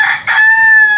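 A chicken rooster crows on a farm, a single loud, close call that rises and then holds a long, steady tone before cutting off.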